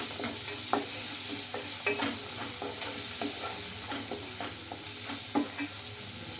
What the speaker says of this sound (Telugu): ఇవి రెండు వేసేసుకొని బాగా కలిపేసుకుందాం